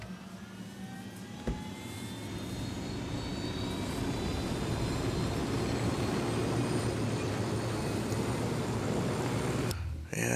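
A helicopter in the video game Ghost Recon Wildlands powers up and flies, its engine whine rising and then holding at a loud, steady roar, with brief talking near the start.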